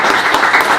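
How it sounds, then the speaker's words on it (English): A brief, steady burst of light clapping from a small group at a hands-on showing of the Lego Aston Martin DB5 set, close and dense for under a second. "That's worth a minor round of applause, I think."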